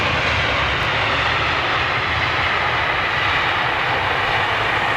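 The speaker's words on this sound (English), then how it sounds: "Oh, smooth as. Very British landing there." A fixed-wing airliner lands at London Heathrow, its engines giving a steady, loud broadband roar that holds constant throughout with no voices over it.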